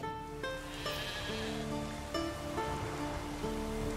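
Sheep bleat repeatedly in The Witcher 3, with several wavering calls overlapping above a steady wash of rain and ambient game sound.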